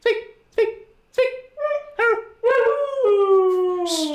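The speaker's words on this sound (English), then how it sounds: "Okay, that's my dog." A husky howls in a series of rising, wavering notes: several short separate cries first, then longer drawn-out howls close to the listener, with a little whimpering mixed in.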